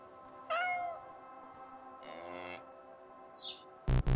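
A synthesized cat meow rings out clearly, followed by a second longer meow and a brief chirp, then a sharp electronic burst, from the video game Logicality.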